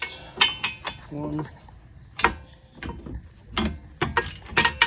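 Pneumatic impact gun cracking wheel lug nuts loose during a brake job, a series of sharp, loud rattling bursts in quick succession, with brief metallic socket clinks between them and a short spoken count.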